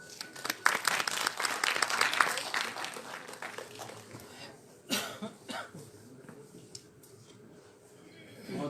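An audience claps to welcome a professor at an Urdu literary paper-reading session, the applause dense at first and then thinning to scattered claps, with a few coughs.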